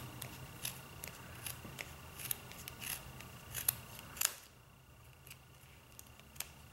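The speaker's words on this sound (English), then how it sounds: "So I'm gonna turn it this way and just run my scissors through that." Quiet, rapid snips of scissors cutting through wound yarn to make a pom pom, a steady run of sharp clicks that stops partway, leaving faint ticks afterward.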